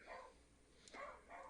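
Dogs wanting to be let in and fed bark outdoors, faint and somewhat distant, a couple of short barks spread over a second and a half.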